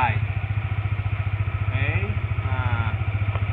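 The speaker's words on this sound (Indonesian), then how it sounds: "lalu setelah itu kita gas sedikit-sedikit, dan motor akan maju" A manual-clutch motorcycle engine runs steadily in first gear, throttle eased on gently as the bike starts to move off, a close, even low chugging with light clatter and a voice talking over it.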